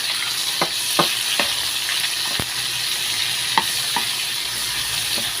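Tomato, onion and two kinds of chilies hiss loudly in a hot pan, with a spatula stirring in a few scattered scrapes and taps over the steady sizzle.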